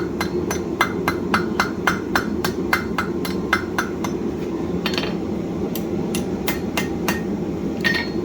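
Steel S-hook hammered on an anvil horn by a blacksmith: a steady run of bright, ringing metallic strikes roughly every third of a second, then sparser blows after a brief pause, over a constant low background hum.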